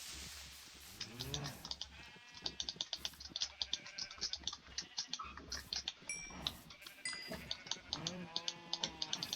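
Several sheep bleat repeatedly in a Minecraft game, their wavering cries overlapping a steady patter of keyboard typing and mouse clicks, fairly close and unaccompanied by talk.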